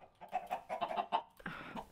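Chickens clucking close by in a confined indoor space, a burst of short, rhythmic clucks followed by a louder, rougher squawk, with no talk.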